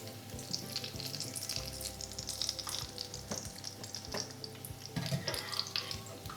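Hake and chickpea-potato pastries fry in hot oil, a steady close sizzle and crackle running throughout with small bubbling pops and occasional utensil stirs, no voices.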